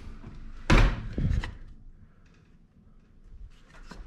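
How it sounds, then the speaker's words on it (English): An attic door is pulled down in a garage gym, giving a sharp loud thunk and a second knock close by, followed by quieter rattles and creaks as it settles. "when I pull down my attic door"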